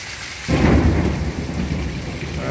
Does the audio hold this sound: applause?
no